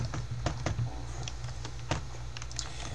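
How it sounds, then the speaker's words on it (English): Rapid, uneven keystrokes on a computer keyboard as a password is entered at a login prompt, close and steady with a few sharper taps. "after typing in a password."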